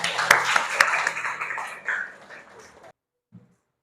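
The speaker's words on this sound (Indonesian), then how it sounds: "Tepuk tangan untuk kita semuanya" Classroom applause during a mathematics lesson on solid geometry, a burst of clapping from a group that fades over about three seconds, then a brief faint sound after silence.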